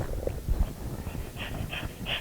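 A dog pants steadily in hot weather, with quick rhythmic breaths close by and a few whimpering snorts mixed in; no one speaks.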